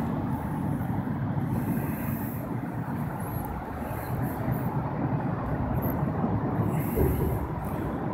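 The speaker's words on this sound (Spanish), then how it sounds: "Se puede oír cuando pasan los carros." Cars crossing a high bridge over the Rio Salado in Arizona, a continuous low roar of tires and engines rumbling loud and steady from nearby with no break.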